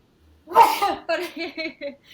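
A single sharp sneeze bursts out up close, followed by a brief spoken reply.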